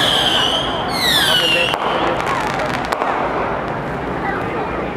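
Fireworks crackle and pop outdoors during a sky lantern festival in Taiwan, with a whistling rocket rising early on, then a run of sharp bangs over a dense crowd murmur; people talk throughout.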